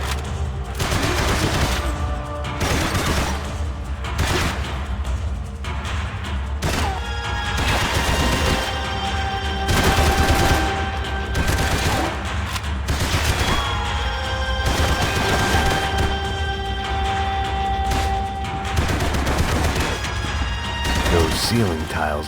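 Rapid gunfire from the video game Max Payne 3 rattles in bursts across a busy action scene, mixed with crashes, a steady music bed and a voice speaking over parts of it.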